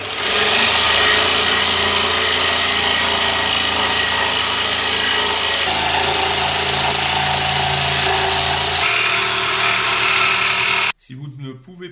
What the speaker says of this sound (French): vous allez pouvoir glisser la lame et attaquer votre découpe